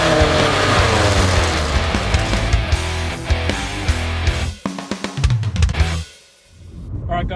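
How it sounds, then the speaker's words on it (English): A 2002 Subaru Bug-Eye WRX cruises, its engine droning loud and steady from inside the car, dipping briefly near the end. "we're here in Dan's 2002 Bug-Eye WRX, just going for a little bit of a cruise"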